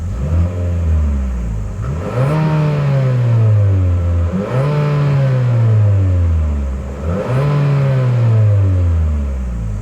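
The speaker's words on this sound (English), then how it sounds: "As always, here is that exhaust clip." A 2026 Infiniti QX60 SUV's exhaust revs three times in a steady rhythm, each rev rising to a throaty roar then falling back to idle, loud and close.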